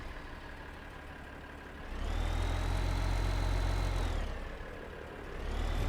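Tractor engine in the video game Farming Simulator 15, a steady low idle that swells louder for a couple of seconds as it revs, then eases back and rises again, with no talk over it.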